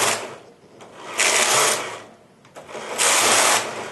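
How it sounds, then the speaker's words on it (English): A Brother 970 knitting machine's lace carriage sweeps back and forth transferring stitches, two long mechanical whirring passes with clicks between them, close and loud. "the lace carriage comes on, and it does 4 rows, transferring stitches"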